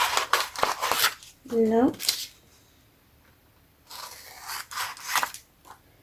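Scissors snip through paper while making a junk journal at a craft table, a few quick crisp cuts heard between stretches of French talk.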